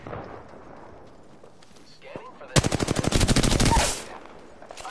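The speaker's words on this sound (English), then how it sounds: "Oh, I'm getting sniped." Gunfire in the video game Apex Legends: a loud, rapid burst of about a dozen evenly spaced shots lasting over a second, rising out of quieter background game noise.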